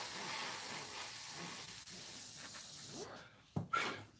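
A steady, faint hiss of a misty coat of paint being sprayed onto a scale model runs for about three seconds, then cuts off, leaving a few soft clicks and handling noises.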